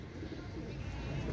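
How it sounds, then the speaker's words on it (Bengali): Golden pigeons, a white-golden master pair, coo softly in a quiet, steady murmur, the low rolling calls close by and faint, with no speech over them. "দেখেন ভিউয়ার্স এরকম স্ট্যান্ডিংওয়ালা গোল্ডেন কবুতর আপনাদেরকে কেউ দিতে পারবে না"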